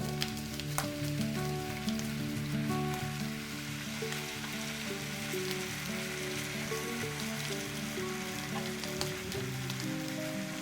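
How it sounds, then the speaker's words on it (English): Bacon sizzles and spits steadily in a frying pan alongside other breakfast items for a full English fry-up, a dense continuous crackle with occasional sharper pops, fairly close, with no talking. "Sizzle, sizzle."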